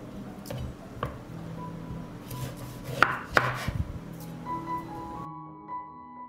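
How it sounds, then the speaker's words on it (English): Knife slicing white bacon into thick pieces on a board, a few soft cutting strokes with two sharper knocks in the middle, close and quiet with no talk. "I cut the bacon into thicker slices."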